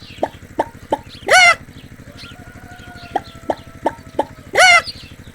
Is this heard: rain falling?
no